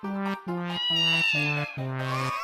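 Voices imitate a cat meowing in a comedy scene, giving a series of five drawn-out, close, nasal meows, some rising in pitch, with no other talk.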